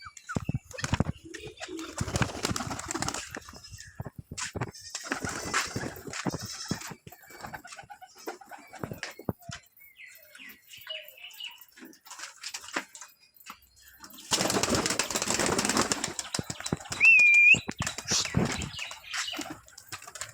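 Pigeons flutter and coo with wingbeats and scattered calls, broken by quieter stretches and a louder burst of flapping near the end.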